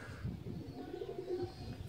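A pigeon coos softly and close by in a low, rolling murmur, alone with no talking, at a pigeon keeper's loft where pigeons are raced.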